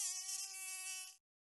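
A mosquito whines in a thin, steady, close buzz for about a second before cutting off, followed by a sharp slap-like thud.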